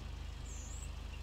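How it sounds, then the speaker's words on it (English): A truck's handbrake engages in the video game SnowRunner with a brief high hiss of air over a low, steady engine rumble. "Handbrake engaged."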